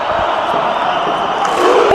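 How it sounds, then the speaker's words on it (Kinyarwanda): Football fans roar and chant for Rayon Sport inside a stadium, a steady dense crowd din with a rising swell toward the end and a sharp whistle-like cry near the close. "Umva uburyo bafana, uburyo batinginga"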